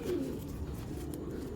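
A large racing pigeon of a tournament breed coos softly and steadily in a loft, a low murmuring call continuing through the short stretch with no talk.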